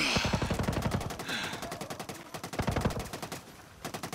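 Rapid automatic gunfire from the Ghost Recon Breakpoint video game during a behemoth fight, with dense, close bursts of repeated shots running nearly continuously and brief pauses between volleys.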